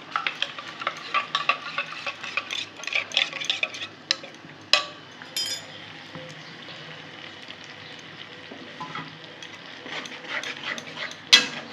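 A spoon stirs ground black pepper and spices into water in a bowl, giving intermittent scraping and clinking strokes that come in bursts, then a quieter stretch and a sharp clatter near the end.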